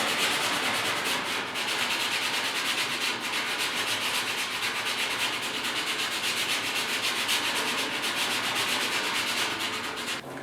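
Folded sandpaper is rubbed by hand over car cab bodywork in a steady, rapid back-and-forth scratching, close and continuous with no talking.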